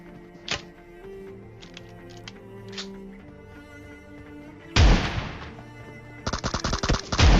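Shotgun fire in a video game: a loud blast followed by a rapid burst of repeated shots, with faint in-game clicks and tones beforehand.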